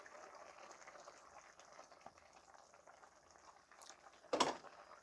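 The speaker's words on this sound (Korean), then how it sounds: "이렇게 해서 30초만 더 끓여 보겠습니다" A Korean anchovy-stock soup bubbles quietly in a pot, a faint steady simmer that ends in a short, sharp clink or splash near the end.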